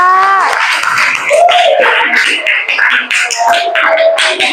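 Classmates clap for a student group in a school informatics class, scattered applause mixed with overlapping voices and chatter, including a teacher speaking, moderately loud throughout.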